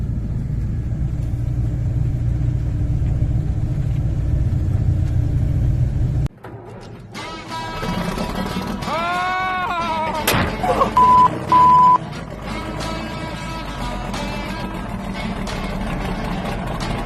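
A tractor engine with a straight-pipe exhaust idles and revs close by, a loud rumbling drone with a sharp thunk partway through and rising engine pitch in bursts.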